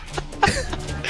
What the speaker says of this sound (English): The first thing I hear is a cough.